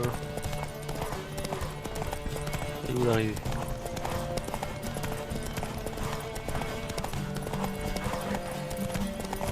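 Rapid hoofbeats of a galloping horse with a brief whinny in The Witcher 3, heard under steady music and excited voices talking over it.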